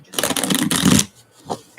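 Playing cards are riffled and shuffled for a craft session, a quick crisp flutter of about one second followed by a couple of soft card taps.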